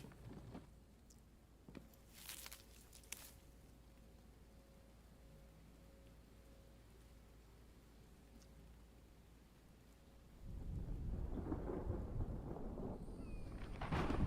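Thunder and rain play in the video game The Infected: low rumbles and scattered cracks sit over faint background noise, then a louder, continuous rain wash builds toward the end, with no talking.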